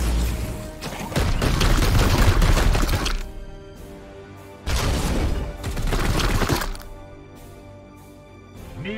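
Heavy support gunfire from Warhammer 40,000: Chaos Gate Daemonhunters, two loud, dense bursts of booming, crackling shots, each a few seconds long, separated by a short ringing lull, with a quieter tail of fading crackle after the second.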